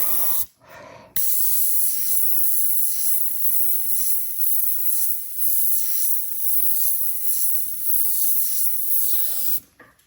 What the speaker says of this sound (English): I will spray a little bit of more intensity in this area because it needs to be brighter